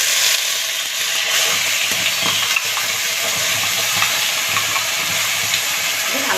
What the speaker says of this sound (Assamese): ভালদৰে ভাজি ল'ম।